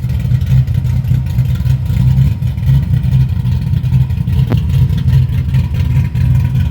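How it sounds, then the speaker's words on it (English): A 1988 Monte Carlo engine with a 3-inch exhaust and X-pipe runs loud and close. Its deep, steady rumble carries a throbbing low pulse throughout, without clear rev changes or any talking. "I do have 3-inch exhaust with an X pipe"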